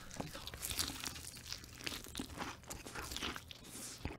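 Crisp crunching and chewing of seasoned fried chicken close to the mic, with irregular bites and crackles running steadily throughout and a faint voice now and then.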